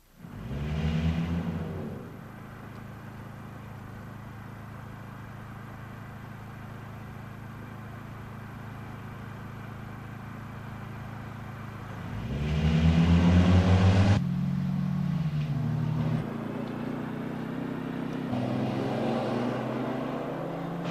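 1983 Chevrolet Cavalier and Toyota compact cars with automatic transmissions rev up and accelerate to 55 mph in bursts, a droning engine hum between them, rising again loudly midway with rumbling gear changes.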